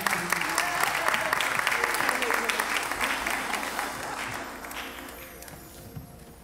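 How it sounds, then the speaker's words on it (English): A church congregation applauds during a lay day worship service, a steady burst of clapping close by that gradually thins and fades, with voices underneath. "Can we give God another hand clap of praise in this place?"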